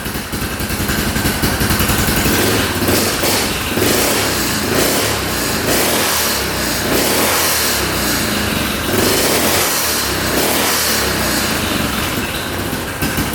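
An ATV engine, freshly fitted with a repaired aftermarket carburetor, revs loudly and steadily up close, with repeated throttle surges rising and falling over a continuous running drone.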